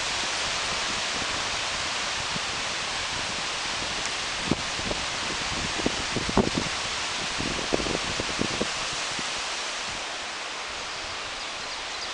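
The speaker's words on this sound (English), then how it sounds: "Kind of windy up here." Steady wind blows on a mountain along the Appalachian Trail as a broad, constant rush, with occasional soft buffeting gusts and rustles.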